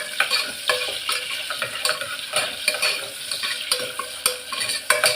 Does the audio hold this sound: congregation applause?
no